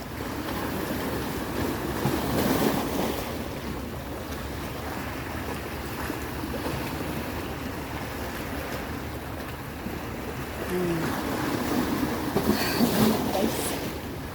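Water surges and crashes against coastal rocks during coasteering with a broad, roaring wash that swells and falls repeatedly, loud and close, with no voices.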